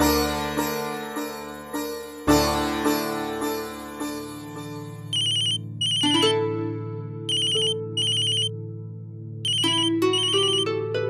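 A mobile phone ringtone plays a repeating melodic tune with bright electronic chimes, loud and close, looping through the whole stretch with no talking.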